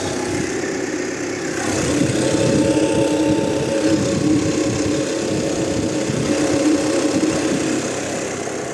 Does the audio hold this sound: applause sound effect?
no